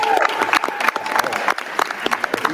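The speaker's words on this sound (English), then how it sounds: "So a round of applause for everybody there in the crowd," A crowd claps in lively, uneven bursts at a college commitment event for a high-school basketball guard, close and fairly loud applause with scattered sharper hand claps.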